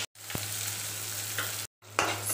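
Food frying in a pan, a continuous close sizzle with stirring, briefly cut out twice before resuming.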